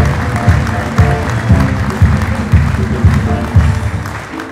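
Applause at an honorary doctorate ceremony for gospel ministry: a room of guests claps in a steady, rhythmic beat, with sharp regular claps standing out over a broad crowd wash, fairly loud and close throughout.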